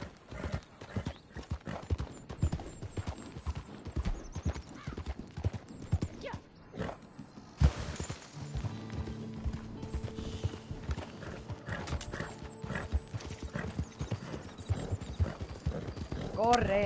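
A horse gallops in the Red Dead Redemption 2 Online video game, steady rapid clip-clop of hooves throughout with a neigh and mechanical clatter, while a person urges it on in Spanish over the hoofbeats.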